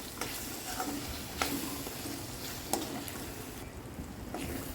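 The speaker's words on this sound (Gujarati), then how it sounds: "હવે આ બધું સારી રીતે મિક્સ કરી લઈશું" Spices and a crushed savoury snack being stirred into thick gravy in a pan, a steady sizzle with scraping spoon strokes at irregular intervals, close and fairly quiet, no talking.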